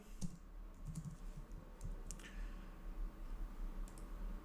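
Fingers tap quickly on a computer keyboard, giving a light, close stream of irregular clicks over a faint background hum.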